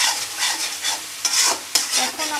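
Curry with fried bitter gourd and potatoes being stirred in a pan for a rohu fish curry, a steady scraping, sizzling stir with repeated spoon strokes against the pan and several sharper clacks, close and fairly loud.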